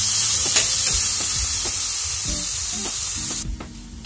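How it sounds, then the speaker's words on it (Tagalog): Ground pork sautéing in a pan, a steady close hissing sizzle with occasional soft stirring clinks, cutting off abruptly near the end, with no voices. "habang ginigisa natin yung pork, nag-a-add ako ng paminta"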